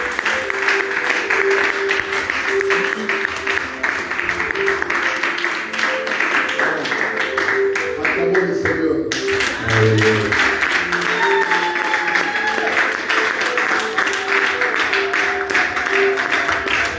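A church congregation applauds and acclaims the Lord in worship, sustained clapping and crowd noise running throughout alongside music and voices.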